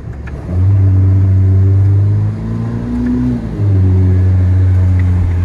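A Ferrari SF90 Stradale in thermal mode, its engine running loud and close in a steady low drone with a brief rise in pitch and a dip before it settles back.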